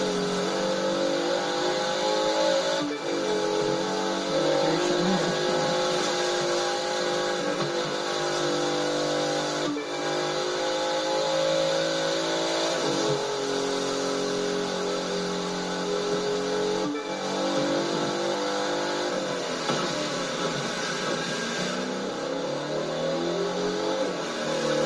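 A car engine in a racing video game revs loudly and continuously, with the pitch climbing and dropping as the car shifts gears across a long stretch of racing, and no voices are heard.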